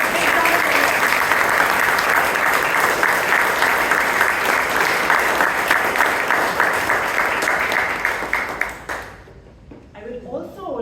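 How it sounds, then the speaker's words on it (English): A Toastmasters club meeting audience in Bangalore applauds loudly and steadily for about nine seconds. The clapping then fades quickly to a quieter room with a few faint sounds. "Let's give them a big round of applause."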